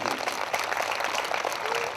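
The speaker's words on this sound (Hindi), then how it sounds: "जोरदार ताली बजाइए परमेश्वर की।" Church congregation breaks into brief, dense applause during a sermon, a continuous wash of many hands clapping at moderate volume.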